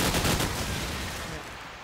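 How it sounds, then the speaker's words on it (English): Rapid automatic gunfire from Call of Duty 4 during a competitive ESL match, a dense, loud burst of shots at the start that trails off into a sustained rattling wash. "As he's literally just loaded a full 30 bullets into the wall"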